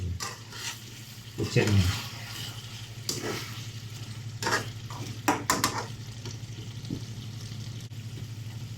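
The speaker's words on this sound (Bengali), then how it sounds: "এটাকে মশলার মধ্যে ভালো করে লাড়ে ভাজি নেবেন" Chicken pieces stirred and frying in hot oil with spices, with a soft continuous sizzle and repeated scraping clatters of a spoon against the pan, a person briefly speaking over the cooking.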